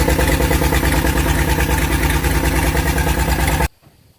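A rebuilt International Loadstar 1600 truck engine runs at a steady, loud, throbbing idle with a continuous rumble, then stops abruptly near the end, leaving near-silence.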